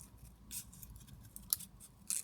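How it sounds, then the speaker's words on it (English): Giant scissors snip around a paper journaling label in a series of quick, crisp cuts, close and quiet, with short pauses between the sharp snips and no talking. "Again with my giant scissors."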